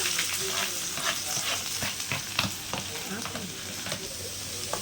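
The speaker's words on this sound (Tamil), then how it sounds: "இப்போ எல்லாத்தையும் சேர்த்து ஒரு எண்ணெயில் ஒரு பரட்டு பரட்டிக்கிடுவோம்" Onion, green chilli and curry leaves fry in hot oil after mustard seeds have popped, giving a dense, even sizzle with scattered crackles and light stirring close by. Nobody speaks.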